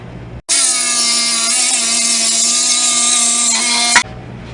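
A power saw cuts steadily through a mini-truck's exhaust pipe, a loud sustained harmonic whine lasting about three and a half seconds before stopping abruptly.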